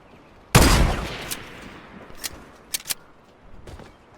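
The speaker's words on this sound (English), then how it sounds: "there's someone with a sniper" A single loud gunshot cracks in a video game and rings out, followed by a few sharper, fainter shots and small clicks.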